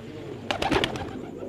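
A Multan-type pigeon coos in a short burst of several soft, pulsing calls close by, over a steady low background murmur.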